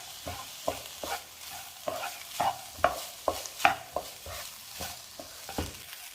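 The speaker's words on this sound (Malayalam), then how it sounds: "അരി ഈ അരപ്പ് ചേർത്തൊന്ന് വഴറ്റിയെടുക്കണം." Rice being stirred and sautéed with masala paste in a pan, the spoon scraping in a steady rhythm of about a dozen strokes over a soft, faint sizzle, with no talking.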